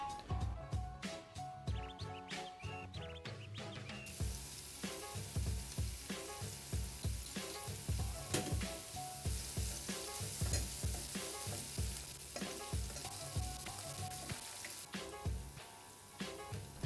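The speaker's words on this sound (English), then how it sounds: "After cooking the garlic in olive oil, I then added the pesto sauce I also found at NTUC." Garlic and pesto sauce fry in olive oil in a pan, a soft sizzle with rhythmic stirring scrapes beneath background music, continuing steadily throughout.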